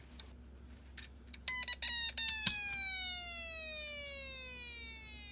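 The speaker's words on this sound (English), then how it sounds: "It kind of sounds like a siren" A Snap Circuits infrared detector circuit, with its capacitor swapped for a larger one, gives a few sharp electronic chirps and then a long, loud, siren-like tone that steadily sweeps downward and lingers, with no talking.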